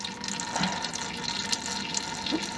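Engine coolant water pours out of a vehicle's engine in a steady splashing stream, continuous and fairly close, with small drips and gurgles on top.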